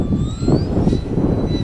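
The electric motor of a HobbyKing Arcus F3A RC pattern plane whines steadily at close range as the plane hovers, its pitch rising and falling slightly under a rushing wind-like hiss.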